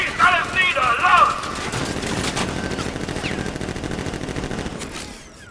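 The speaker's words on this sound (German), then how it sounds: "Feuer frei! Schießt alles nieder!" Gunfire in a Joker-themed Batman video game: rapid bursts of automatic fire at a moderate level that trail off into lingering noise, with a voice chattering over the start.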